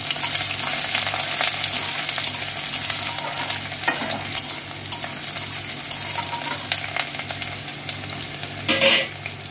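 Sliced onions sizzle and fry steadily in a pan with cumin and dried red chilli, loud and close, with stirring scrapes throughout and a brief louder burst near the end, no voices.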